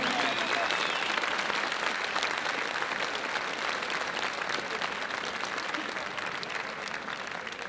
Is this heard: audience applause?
yes